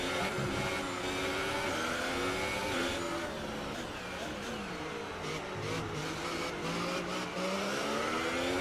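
Several race cars in an F1 video game at Singapore, one powered by Mercedes, their engines screaming continuously with rising and falling pitch as they accelerate, shift and pass, loud and unbroken throughout.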